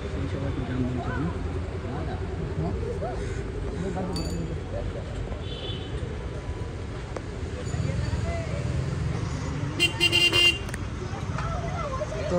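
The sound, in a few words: city traffic jam with car horns honking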